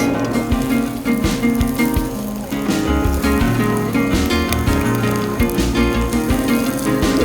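Chilli and onions sizzling in hot oil with ginger for egg chilli, a dense, loud, steady crackle running throughout.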